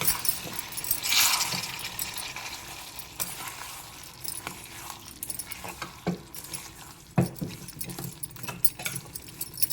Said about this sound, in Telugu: స్టవ్ కొంచెం తగ్గించి పెట్టుకొని దీన్ని కలుపుకోవాలి.